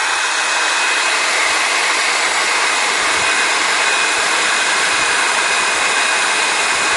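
A heat gun blows steadily at close range while shrinking heat shrink tubing over vehicle wiring, a loud, unbroken hissing roar that holds at one level throughout with no voices.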